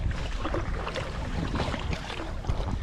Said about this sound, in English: these two are paddling